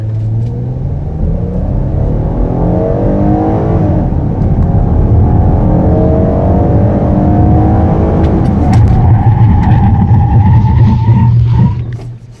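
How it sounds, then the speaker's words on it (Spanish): A 2018 Kia Sorento accelerates hard on a 0-100 km/h test run, its engine loud and close with a steadily rising drone that climbs through the gears before easing off at the end. "La aceleración es súper, súper suave"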